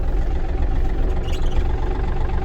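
A Yanmar AF230 tractor engine rumbles steadily as heard from inside its glass cabin, a low, muffled, even drone with no change in pace and no voices.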